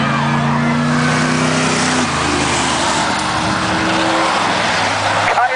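Race cars at Hudson Speedway, including a Camaro, roar loudly as they circle the track, with one engine's steady drone giving way to a dense mix of revving and passing cars, voices faint beneath.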